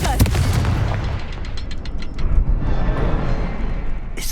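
A Confringo spell goes off in Hogwarts Legacy as a sharp burst with a deep boom, followed by crackling debris and fading rumble.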